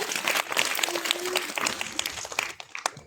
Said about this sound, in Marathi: चला दर्शनसाठी टाळ्या वाजवा सगळ्यांनी